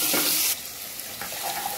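Food being stirred while frying in a pan with sugar and minced red pepper, a steady bright sizzle that drops in level partway through, with faint scraping; no talking.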